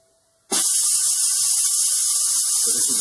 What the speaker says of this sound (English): So this is a vacuum grip